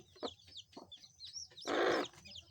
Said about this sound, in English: our nice chicks inside the basin